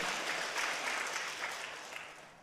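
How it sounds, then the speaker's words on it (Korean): A small church congregation claps steadily for a couple of seconds during a sermon, the applause fading slightly toward the end. "박수 쳐주세요."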